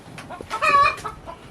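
A chicken at a treadle feeder that opens when the birds stand on it gives a short run of clucks rising to one louder, drawn-out squawk, close and clear with no talk.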